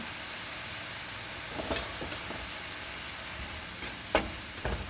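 Vegan scallops fry in a hot pan with a steady, even sizzle, broken by a few soft scraping stirs and clinks. The sizzle is moderately loud and no one talks.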